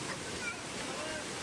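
Rauda waterfall in North Kolaka, a steady rushing roar of falling water into a small pool below, dense and continuous, with a voice talking over it.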